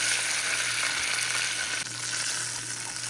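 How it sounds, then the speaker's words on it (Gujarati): Water splashed into hot oil tempered with mustard seeds, curry leaves and corn for upma, producing a loud dense hiss that carries on steadily with a slight dip partway through. "હવે એમાં પાણી વેરી દઈશું."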